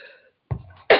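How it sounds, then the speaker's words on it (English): A person gives a short cough, a couple of abrupt close bursts separated by a brief pause, in a quiet room. "Cough of release"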